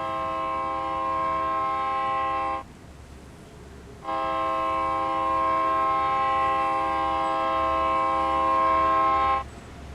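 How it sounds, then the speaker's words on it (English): A train in Train Sim World 2020 passes while sounding two long, loud horn blasts, the second much longer, separated by a short gap over a low rolling rumble. "we'll watch the train drive by from this view here"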